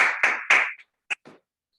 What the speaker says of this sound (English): we wanted to give those instructors a round of applause.